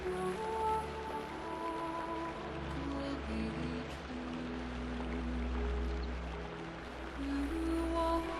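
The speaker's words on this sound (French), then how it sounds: "pleut depuis hier après-midi et pleuvra toute la journée jusqu'à la soirée." Rain falls in the Amazon rainforest, a dense, constant hiss and patter of drops that stays even and moderately loud with no break.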